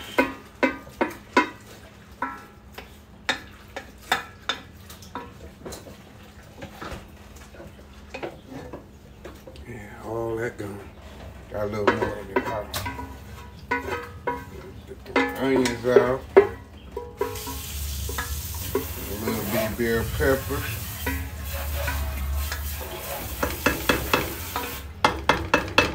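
Vegetables stirred in a hot sizzling pan at home, with repeated scraping strokes and clinks in an uneven rhythm, a steady fry building louder toward the end, and a voice speaking now and then.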